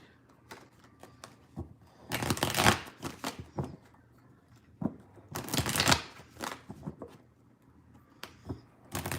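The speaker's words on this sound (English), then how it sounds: "And I shuffled these cards really well." Two quick riffles of tarot cards being shuffled, each a dense rapid flutter, separated by lighter taps and handling of the deck up close.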